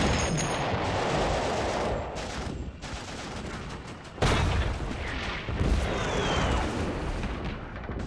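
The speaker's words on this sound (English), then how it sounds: "From high on the steep slopes, the Turks fire on them with impunity." Rifle and artillery fire from Turkish positions on steep slopes above narrow Gallipoli beaches, a dense continuous roar of shots and booms with a sharp louder burst midway, heard alone without talk.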